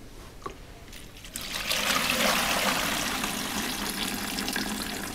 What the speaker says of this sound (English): Pour it through the shmata.